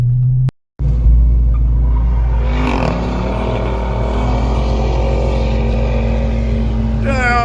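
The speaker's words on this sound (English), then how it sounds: "Got a car coming." A Dodge Charger R/T with a muffler delete rumbles loudly past, a deep, steady exhaust drone holding close for several seconds after a brief dropout, with a voice speaking over the noise.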